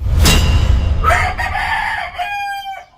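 A rooster, apparently a gamecock, crows once close by, a loud drawn-out call that rises and then holds a strained tone to its end, with no talking.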